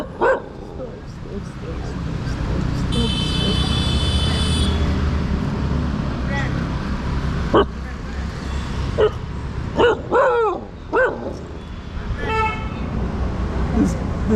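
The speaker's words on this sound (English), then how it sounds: "These dogs of India, man." Street dogs in Goa, India, barking in a few sharp bursts near the end, mixed with a car horn toot and passing traffic while someone talks throughout.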